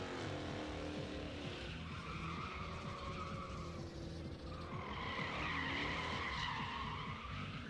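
Chrysler drift car spinning smoky donuts at a drift pit test day, tires skidding and squealing continuously over a roaring, rasping engine, loud and close throughout with no pauses.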